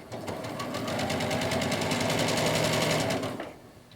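A sewing machine fitted with a quarter-inch presser foot stitches a seam, running steadily at a fast, even rhythm for about three seconds before it slows and stops, with no voices over it.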